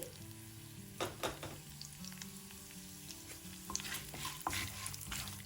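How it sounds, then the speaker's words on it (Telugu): Steady sizzling of chana dal, urad dal, mustard and cumin seeds frying in hot oil, with a few louder crackles and stirring clatters scattered throughout. "కొద్దిగా శనగపప్పు, మినప్పప్పు, ఆవాలు, జీలకర్ర వేసి వేగనివ్వాలి."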